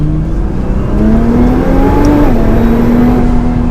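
A Nissan R35 GT-R accelerating hard, its engine drone climbing steadily in pitch through a gear, dipping briefly at a shift, then rising again, loud and continuous inside the cabin.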